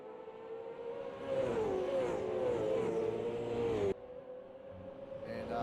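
Race cars in a Bathurst 1000 qualifying session in a racing game roar through the cutting, a steady engine drone with shifting pitch, loud and continuous, briefly dropping before building again.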